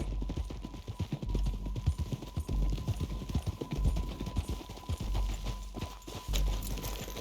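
Horse hooves clop in steady, close rhythm in the Western video game Red Dead Redemption 2, a continuous walking gait with faint ambient background and no speech.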